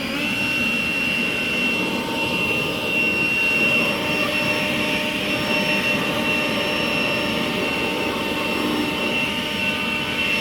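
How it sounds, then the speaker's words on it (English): A small air blower runs steadily in a workshop during a go-kart frame restoration, giving a continuous loud whining hum with no pauses. "Little blowers are real handy."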